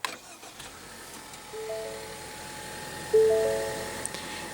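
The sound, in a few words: 2016 Ford Fusion 2.0 L turbo 4-cylinder engine starting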